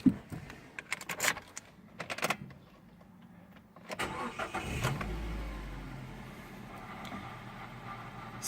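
Car with a 5-speed manual gearbox, with a few clicks and key jangles before the engine cranks and starts, then settles into a steady low idle.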